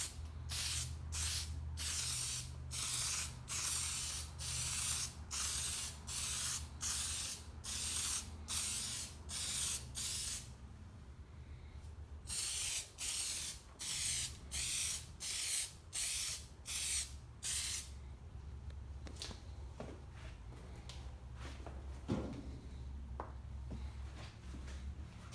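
Plasti Dip aerosol sprayed onto a Camaro spoiler in repeated short bursts, loud hissing pulses in quick rhythm, then a pause and fainter handling noises.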